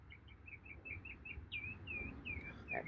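A small bird outdoors sings a series of quick bright chirps and slurred whistles, fairly faint over a low ambient hum with no talking.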